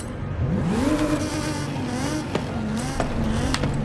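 A 1992 Jeep Wrangler fitted with an exhaust in Forza Horizon 5 revs with a rising, droning engine tone, then holds a steady buzzing note with a few small blips from close by.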